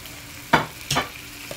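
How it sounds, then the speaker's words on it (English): Two short bursts of frying sizzle, a crackling hiss as chicken hits a hot frying pan to sear, with a brief pause between them. "So my pot is hot enough, frying pan is hot enough, nice sizzle."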